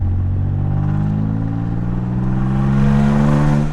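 An Audi Allroad C5 engine revs loudly and steadily above 2000 RPM, its droning pitch climbing toward the end before easing slightly, heard up close with no talking.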